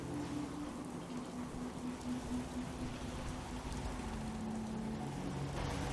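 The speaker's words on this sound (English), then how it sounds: "how wonderful it'd be to get out of this infernal rain" Steady rainfall in the video game Fallout 4, a continuous wash of drops with a low hum beneath, even and unbroken throughout with no voices.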